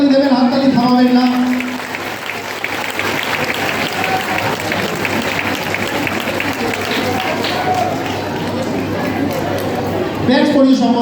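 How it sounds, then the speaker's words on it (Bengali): An audience claps at a felicitation ceremony, sustained dense applause filling the room for most of the stretch, with an amplified voice heard briefly at the start and end. "একটু জোরে হাততালি দেবেন, হাততালি থামাবেন না।"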